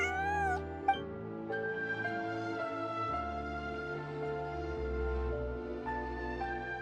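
A cat in the video game Genshin Impact gives a short meow at the start, then steady game music plays on without it.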